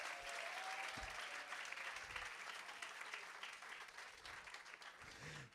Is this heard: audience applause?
yes